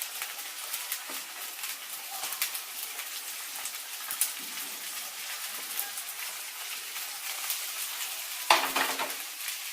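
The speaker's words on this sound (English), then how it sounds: "Then you can stir nicely and make it cook." Spicy Maggi noodles with green peas being stirred in a hot pan, a steady sizzle with scattered scraping strokes and one sharper clatter near the end, close and fairly quiet with no voices.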